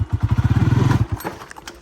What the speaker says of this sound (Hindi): मोटरसाइकिल पे हम बैठ के जाएंगे।